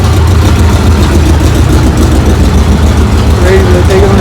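A rebuilt 1968 Chevrolet El Camino engine idling, a loud, steady low rumble held close and unbroken throughout, with faint higher tones briefly rising over it near the end.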